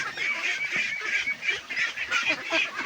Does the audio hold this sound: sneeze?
no